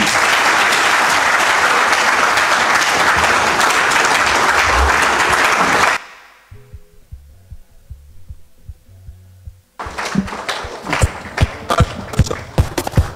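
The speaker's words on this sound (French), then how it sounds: "Monsieur le Président Laurent Gbagbo, qu'on applaudit encore" A ceremony audience gives loud, sustained applause after a presidential New Year message. The clapping stops abruptly into a quiet lull, then strong rhythmic thumps and claps start up again.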